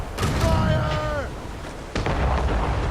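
Ship cannons firing in Assassin's Creed Rogue, with shouted game voices at the start and a sudden heavy cannon boom near the end under a constant rumbling battle din.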